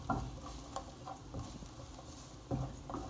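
Garlic frying gently in oil over a low flame for a seasoning sauce, soft sizzle under intermittent stirring scrapes and taps of a utensil in the pan, close and fairly quiet.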